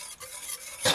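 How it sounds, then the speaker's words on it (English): Salt being stirred into water in a bowl: a short clink-and-swish of stirring, with a brighter clatter at the very end, close up and with no one talking. "You just stir."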